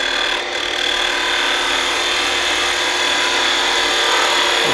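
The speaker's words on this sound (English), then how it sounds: "get the best cut you can with the roughing gouge" A steady, rough scraping hiss of a roughing gouge cutting into spinning wood for a turned table lamp shaft, close and continuous, with the lathe's whir underneath.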